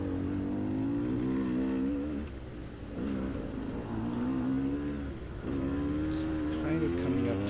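Dirt bike engine riding a sandy cross-country motocross track, a close buzzing engine that surges and revs in repeated bursts with a brief dip between throttle pulls, wind and rider noise mixed in.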